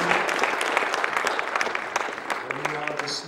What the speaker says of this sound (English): Let's give Hashem another great big clap offering.